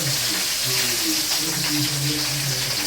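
Mustard seeds and green chillies frying in hot oil for egg rice, a continuous loud sizzle and crackle with a low hum and faint voices beneath.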